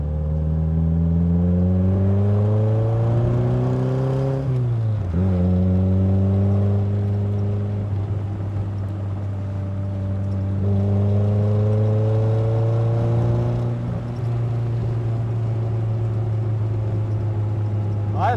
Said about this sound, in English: Your engine sound is lovely.